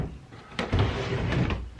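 A dresser drawer holding off-season clothing slides open in a closet, a short wooden scrape and thump followed by a longer rumbling slide, close and fairly loud.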